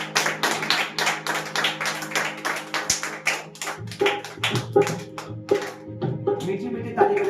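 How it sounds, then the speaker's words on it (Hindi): Congregation clapping hands together in thanks during a Friday prayer service, a dense run of rhythmic claps through the first half, thinning into scattered claps with low voices murmuring underneath. "ताली के साथ हम परमेश्वर का धन्यवाद करेंगे।"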